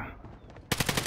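Rapid automatic gunfire bursts in a shooter video game, starting abruptly after quiet background noise and hammering out a fast, loud rhythm of shots.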